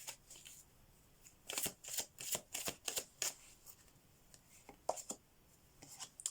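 A deck of message cards is shuffled in a quick run of crisp riffling bursts, then a few scattered card flicks follow in a quiet room.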